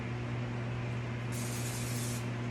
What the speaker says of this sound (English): I'm gonna spray it right in there.